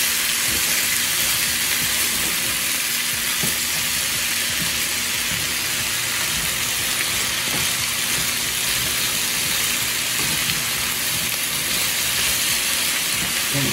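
Southern breakfast potatoes fry in a skillet with a loud, steady sizzle that fills the whole stretch, with faint scrapes and clatter as they are tossed and flipped.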